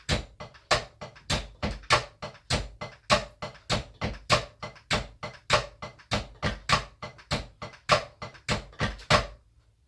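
A steady drum kit groove with punchy kick and crisp snare hits alternating in a driving rock rhythm, played alone and close, stopping abruptly.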